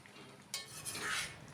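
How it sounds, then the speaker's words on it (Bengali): A spoon mashes new potato pieces into thickening ghugni gravy in a pot, with soft scraping and clinking strokes, faint and close. "এবার খুব ভালো করে একটুখানি ম্যাশ করে নেব আলুর টুকরোগুলোকে"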